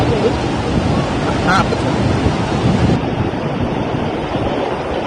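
Marleshwar waterfall pours with a steady, loud broadband roar of rushing water and gusts of wind, unbroken from start to end and softening slightly midway.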